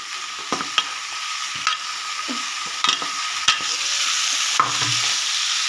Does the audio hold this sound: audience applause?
no